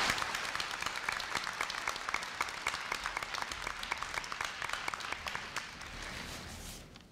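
Crowd applause welcoming a speaker at a Korea University freshman entrance ceremony in a large hall, with clear individual claps within a sustained ovation that fades out near the end.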